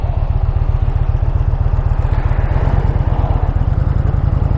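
Motorcycle engine running steadily on a short ride around the block, with a loud, close, continuous pulsing rumble and even firing throughout and no voices.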